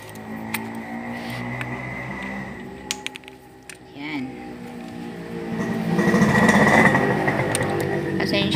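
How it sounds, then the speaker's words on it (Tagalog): Roadside traffic passes near a home DIY project making plant pots from scrap PVC, with engines droning and a louder vehicle swelling near the end, mixed with a few sharp clicks and a person talking. "Pasensya na po, medyo maingay, tabing daan po kami."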